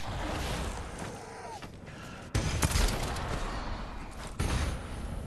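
Gunfire in the zombie game Dead Island 2, with sudden loud shot bursts at about 2.3 and 4.4 seconds cutting through a steady bed of game ambience.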